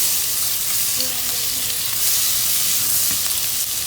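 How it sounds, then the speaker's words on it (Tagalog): Butter and garlic sizzle loudly in a pan for turkey soup, a dense close frying hiss with light stirring and no talk. "Pakalagay po ng butter, isabay na po natin ang bawang."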